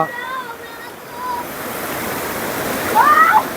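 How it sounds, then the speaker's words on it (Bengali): Water cascading down a stream at Vashistha Ashram makes a steady, close rushing wash that holds an even level throughout, with faint tonal sounds above it and a slightly louder surge near the end. "দেখুন বন্ধুরা জলধারাটি কিভাবে নেমে আসছে"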